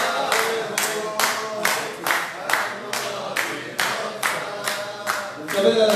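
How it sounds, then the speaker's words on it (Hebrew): An audience at a religious lecture in Afula claps in unison, a steady rhythmic beat of about two claps per second, loud and close, continuing throughout. "כפיים, רבותיי"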